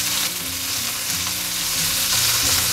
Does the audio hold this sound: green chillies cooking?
yes